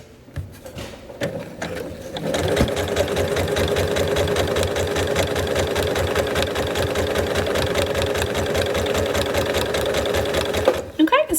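A sewing machine stitching around a Christmas quilted mug rug runs in a fast, steady mechanical chatter for most of the stretch, starting after a few slow single stitches and stopping abruptly near the end.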